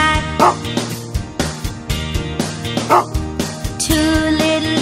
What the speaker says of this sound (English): Mother dog said, woof, woof, woof, woof